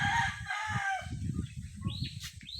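Chickens and a rooster crow, with drawn-out calls and clucks at moderate distance over a low rumbling background and some wing flaps.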